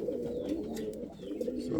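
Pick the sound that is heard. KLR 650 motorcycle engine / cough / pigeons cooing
pigeons cooing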